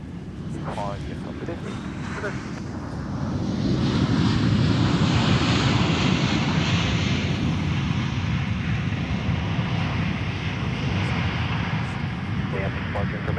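Jet airliners at Minneapolis–Saint Paul airport roar steadily as one passes close by, swelling and holding loud for most of the stretch, with wind buffeting the microphone and a voice talking briefly over it.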